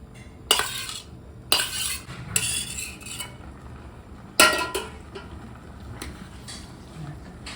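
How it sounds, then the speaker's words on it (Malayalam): A metal spoon clanks against a pot as ground spice paste is stirred into a vegetable curry, with several sharp scraping knocks spaced irregularly over a quiet background. "മിക്സ് ചെയ്ത് അരപ്പ് ചേർത്തു"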